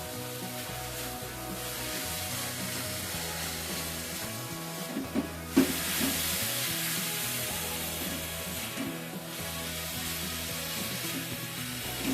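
Vegetables for cabbage rolls sauté with a little tomato sauce in a pan, giving a steady, soft sizzle with occasional stirring scrapes and a brief louder clatter midway, over background music.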